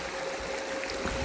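Creek water runs steadily through the middle of a creek in the French Gulch, California gold country, a continuous close broadband rush with no voices.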